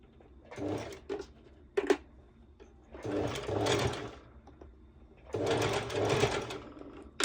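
A sewing machine running a straight stitch through fabric in short, close whirring bursts, two longer runs separated by quieter pauses and small clicks.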